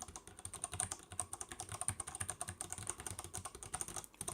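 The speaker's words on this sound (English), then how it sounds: "that to me sounds like a proper keyboard" Fast, continuous typing on a keyboard with a metal top plate makes a dense run of crisp clicks at close range, with no talking.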